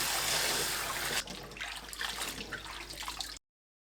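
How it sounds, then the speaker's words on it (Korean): Blanched garlic scapes are rinsed in cold water, a steady rush of running water for about a second before easing into softer sloshing and trickling close by, with no talk. "체에 거르고 바로 찬물에 2-3번 헹궈주세요."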